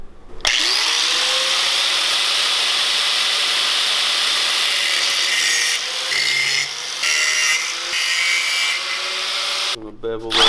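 Power tool trimming a quarter inch off the bolt ends of a leveling kit for a 2011-2016 Ford Explorer, one long, loud, continuous grinding whine close by, wavering slightly near the end.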